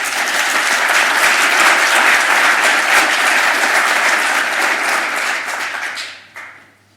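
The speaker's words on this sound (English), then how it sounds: "Please, a resounding applause for them, please." At a society meeting, a room gives outgoing committee members loud, dense, sustained applause. It fades out around the six-second mark, with a brief final flurry.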